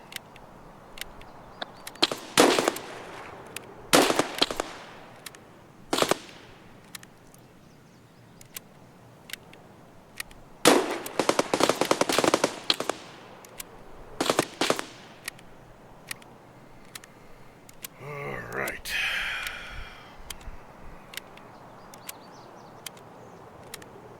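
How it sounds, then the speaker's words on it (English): Distant exchange of gunfire in the video game Escape from Tarkov: scattered single shots and brief bursts, some sharp and nearer, others faint and far off, with quiet gaps between and no talk. "Somebody's exchanging rounds."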